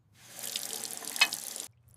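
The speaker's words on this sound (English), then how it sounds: "I wash the dishes." Water runs from a kitchen faucet into a sink during dishwashing, a steady splashing hiss that starts softly, holds with one brief louder splash, then cuts off sharply.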